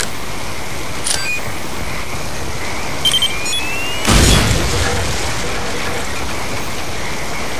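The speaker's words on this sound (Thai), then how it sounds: "วางระเบิดเลยครับระเบิดที่เก็บมาเมื่อกี้ครับ" A planted bomb detonates in Counter-Strike with a single short, loud boom about halfway through, set against a steady noisy game ambience with a few faint electronic chirps beforehand.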